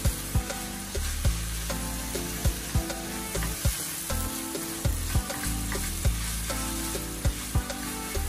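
A spoon scrapes and knocks in a regular rhythm while food fries with a loud, constant sizzle in a pan, salted bolognese sauce for spaghetti being stirred, with no voices.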